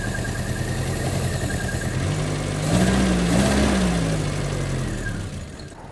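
An MG Midget engine with starting trouble idles roughly up close, a lumpy, uneven mid-pitched drone that rises briefly as the revs lift a little, then settles back, with no talking.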